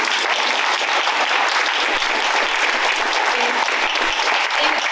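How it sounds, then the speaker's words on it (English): Audience applause for a business panel at an event: a dense, steady wash of many hands clapping continuously throughout, loud and full with no voices. "let's give our panel a round of applause"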